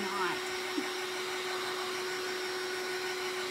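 A hair dryer blowing on a painted terra cotta gnome, a steady, close, continuous whoosh with a constant motor whine throughout.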